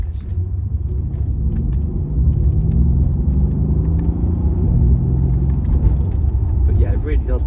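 Deep, steady engine rumble from a 2014 Mercedes-Benz S63 AMG coupé with its 5.5-litre twin-turbo V8, droning continuously as the car drives, slightly louder after the first couple of seconds, with no speech over it.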